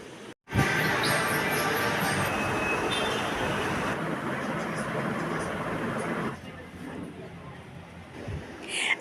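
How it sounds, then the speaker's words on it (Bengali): Kolkata metro train at Baranagar station, heading toward Dakshineswar: a loud, steady rumble and rush of the train passing close by, fading after about six seconds, with no talk. "এই যে মেট্রোটা দেখতে পাচ্ছেন এই মেট্রোটা যাচ্ছে দক্ষিণেশ্বরের দিকে"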